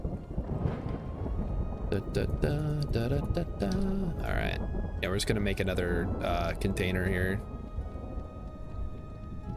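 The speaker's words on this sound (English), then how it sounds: "while we enjoy the ambient sounds of thunder" Thunder and rain ambience in the video game Vintage Story makes a constant rushing wash of rain with low rumbling beneath, while someone talks over it throughout.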